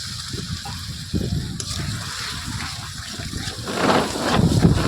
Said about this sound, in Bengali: এবার অল্প একটু জল দিয়ে মশলাটা ভালোভাবে কষিয়ে নেব